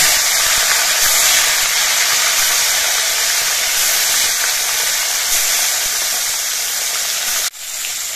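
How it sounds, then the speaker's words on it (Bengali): Khoyra fish fry in hot oil in a wok with a loud, steady sizzling hiss that holds for several seconds, then drops sharply near the end before resuming. "এবার কয়েকটা করে মাছ একসঙ্গে দিয়ে আমি ভেজে নেব।"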